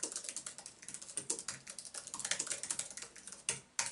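Typing on an Apple M1 iMac Bluetooth keyboard: quick, close, crisp key clicks in an uneven steady stream, with a few heavier presses near the end.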